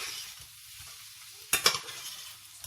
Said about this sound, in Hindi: आलू को भी थोड़ी देर भूनेंगे